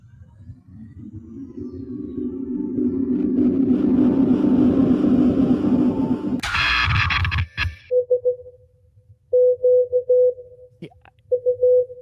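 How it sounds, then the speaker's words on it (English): Morse code beeping: short and long tone pulses in an irregular pattern, following a loud rising whoosh and rumble that cuts off abruptly. "This is Morse code, isn't it?"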